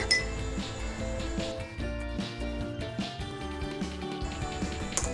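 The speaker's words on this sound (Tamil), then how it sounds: "எல்லா பாக்ஸ்லேயுமே நம்ம ஊற்றிடலாம் நல்லா மிக்ஸ் பண்ணிக்கோங்க கலரை" Homemade air freshener gel mix, made without baking soda, is stirred in several containers, producing quick, bright clinks and taps of utensils against the vessels over a dense clatter, close and continuous without speech.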